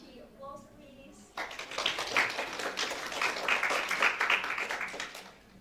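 Audience applause for a presenter at a student judging session, a brief voice first, then a burst of many hands clapping that starts abruptly and continues steadily, fairly close, for several seconds.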